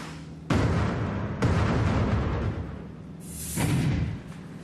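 A test gun fires a tiny aluminium fragment at a sample of space station hull: three heavy, booming blasts, each a sudden loud burst that rumbles and decays, spaced over several seconds.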